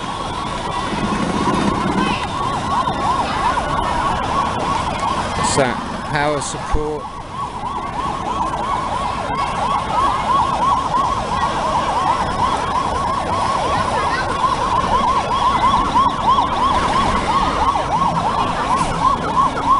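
A fire engine siren wails steadily through busy street noise in Hanoi, Vietnam, with a brief exchange of voices partway through.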